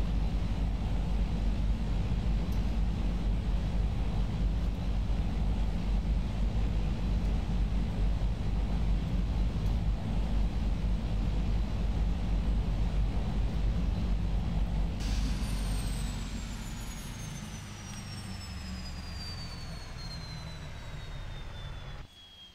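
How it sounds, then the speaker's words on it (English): Twin turboprop engines of a Beech 1900D in Flight Simulator X spool down at shutdown: a loud steady roar that drops around the fifteen-second mark, leaving a long falling whine that fades as the engines wind down. "Wait till the engines shut down"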